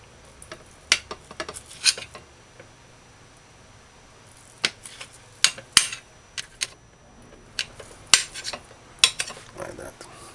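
A knife cuts Spam luncheon meat into quarter-inch slices on a board, giving sharp, irregular clicks and taps in short clusters separated by quiet pauses.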